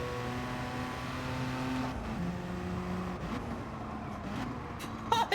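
A race car engine drones through a drift in Gran Turismo Sport, a steady tonal whine that drops in pitch midway and holds before a few sharp bursts at the end.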